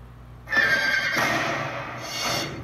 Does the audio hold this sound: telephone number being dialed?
no